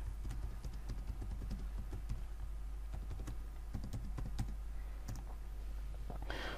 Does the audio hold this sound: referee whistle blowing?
no